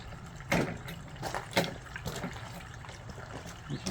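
Grape juice drips and trickles from a 20-ton hydraulic press, with faint liquid splatters and a few louder drops over a low background hum.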